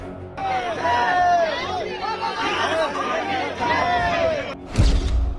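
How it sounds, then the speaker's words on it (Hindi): A crowd of devotees gathered at Patna airport, a dense babble of many voices with excited shouts and chatter, close and continuous, ending in a sharp thump. "एयरपोर्ट पर उमड़ी भक्तों की भीड़"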